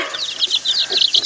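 Chickens cluck in a quick, close run of sharp, high clucks and chirps lasting about a second, loud and clear with no talking over them.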